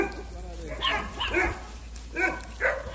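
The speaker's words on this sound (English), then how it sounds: "The dog's not troubling you" Dog barking and yipping outdoors on a farm in Jamaica, a few short bursts at moderate distance, mixed with people talking nearby.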